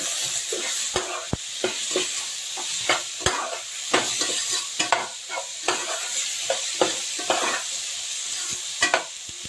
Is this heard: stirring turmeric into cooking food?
yes